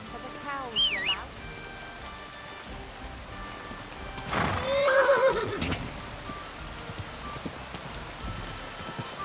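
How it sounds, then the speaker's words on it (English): A horse whinnies with a rising, wavering call early on in the medieval-style game Kingdom Come Deliverance 2. A second, louder neigh and snort follow mid-clip over steady rain-like ambience and faint hoof clatter. "Get that horse under control."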